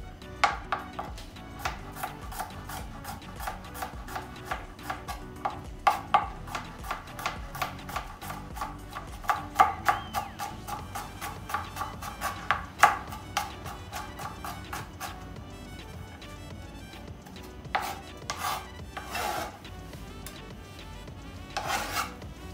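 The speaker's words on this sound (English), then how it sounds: "then you need to take some garlic. Garlic also we have to chop." A knife chops garlic on a cutting board in rapid, steady close-up strokes. Quieter scraping and rubbing sounds follow near the end, with no talking.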